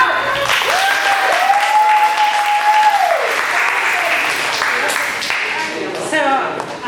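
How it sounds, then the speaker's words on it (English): Loud applause from the audience at a women's discussion event on fibroids welcomes a doctor to the stage, sustained clapping with a voice speaking over it early on and cheering rising at the end. "Please help me welcome, with a round of applause, Dr. Doan."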